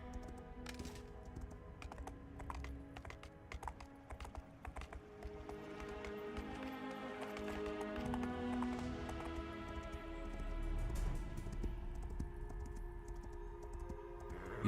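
Horse hooves clip-clopping in a video game in a quiet, quick, steady rhythm, with a soft drone of background game music under the hoofbeats.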